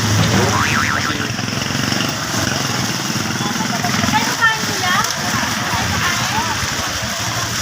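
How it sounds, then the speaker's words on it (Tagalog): Steady heavy rain patters and splashes throughout outside a convenience store, with a motor rumbling nearby and street vendors talking over it. "lakas ng ulan"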